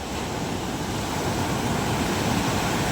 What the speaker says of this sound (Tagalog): lalaki ng alon oh